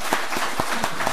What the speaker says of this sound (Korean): 우리 다시 한번 우리 감사의 박수 보내주셨으면 좋겠습니다.